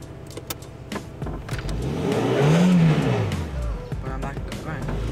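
A car pulls away with its handbrake released during a driving lesson, the engine note rising and swelling then easing off as people talk over it.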